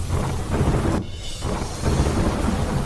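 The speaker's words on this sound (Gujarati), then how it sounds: "મોડાસા શહેર ગ્રામ્ય વિસ્તારમાં ધોધમાર વરસાદ ખાબક્યો" Heavy monsoon downpour over Modasa town and its rural surroundings in Gujarat, with thunder rumbling. The rain roars steadily and densely throughout, and a brief lull comes about a second in before the pounding resumes.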